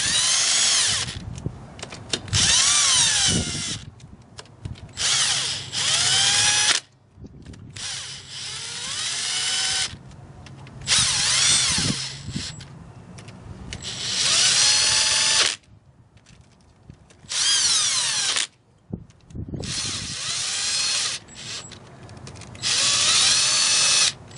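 A power drill used as a driver runs in repeated close, loud whirring bursts with short pauses between, sinking screws into a Rekluse EXP clutch on a BMW F800GS motorcycle.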